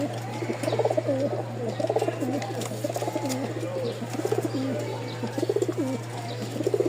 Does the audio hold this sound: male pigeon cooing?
yes